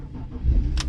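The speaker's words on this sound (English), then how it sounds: "Alright, the car starts up." A BMW E46 with an automatic gearbox, after a motorway accident, cranks and starts, a short low engine rumble building into a steady idle, close and fairly loud with no voices.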